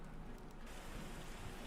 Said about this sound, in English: Some mild rain.